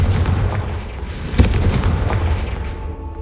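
A Confringo fire spell blasts in Hogwarts Legacy, one sharp explosive boom at the centre rising out of a dense, rumbling game soundscape with lighter crackling bursts around it.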